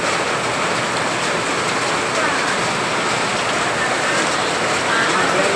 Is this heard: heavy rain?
yes